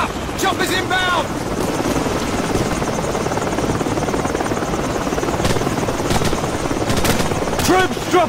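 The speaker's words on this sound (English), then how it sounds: "Heads up! Chopper's inbound!" A helicopter swoops in amid steady machine-gun fire during a battle in Call of Duty 4: Modern Warfare, a loud continuous rotor roar with bursts of shooting and occasional shouted voices over it.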